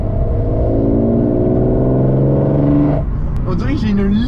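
A BMW E36 325i six-cylinder fitted with an M3 individual-throttle-body intake revs close and loud, a sustained rising engine note holding for about three seconds before dropping off, followed by a person speaking.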